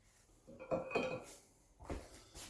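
A spoon stirs blackberry cordial mixture in a container, giving a few quiet clinks and scrapes against the sides over about two seconds, with no voices.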